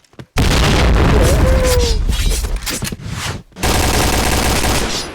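A grenade blast and bursts of gunfire from a first-person shooter match, loud and dense, with a brief drop-out before the heavy shooting resumes; no speech.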